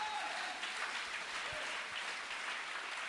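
A congregation applauding in church, dense continuous clapping from many hands filling the room at steady volume, with faint voices mixed in underneath.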